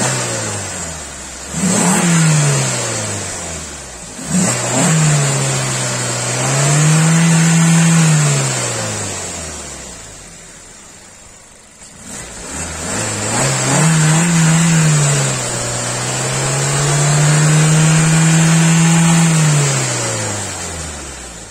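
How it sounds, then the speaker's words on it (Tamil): Engine of a 2022 Maruti Suzuki Baleno Zeta manual hatchback idling after start, with two rising and falling revs, a steady mid-pitched hum swelling and easing, heard close with no talk. "இப்போ இந்த என்ஜின் வந்து பார்த்தீங்கன்னா உங்களுக்கு ஸ்டார்ட் பண்ணி அதனுடைய வைப்ரேஷன்ஸ் வந்து எவ்வளோ இருக்குன்னு உங்களுக்கு காட்டுறேன்"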